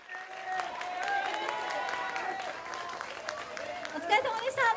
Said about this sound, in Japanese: いや素晴らしいファンの声援が